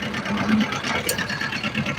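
Tractor engine in a farming video game, a steady mid-pitched drone with a slight knocking pulse running alone and fairly close throughout.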